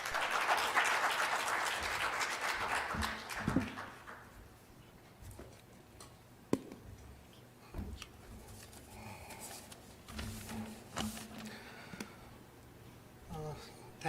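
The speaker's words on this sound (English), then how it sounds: "A round of applause, please" Audience applause at a health conference in Dubai welcoming a speaker to the stage, a dense burst of clapping that fades out after about four seconds, followed by quiet room noise with occasional knocks and faint voices.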